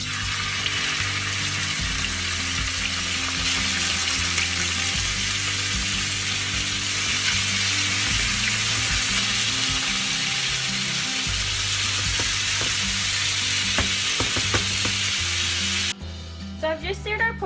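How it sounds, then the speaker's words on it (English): Pork chops searing in hot olive oil in a pan on high heat, a loud continuous sizzle and crackle close up throughout, with a short clatter near the end. "now I'm going to add in our pork chops,"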